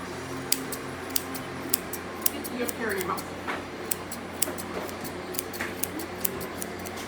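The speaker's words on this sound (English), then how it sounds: "Now, with your curved scissors, if you flip them in your hand, like that, you can get this way. Okay, we're going to trim this stuff in front." Curved scissors trim a schnauzer's hair in repeated sharp snips at an irregular rhythm, close and crisp, with a person's voice faintly in the background.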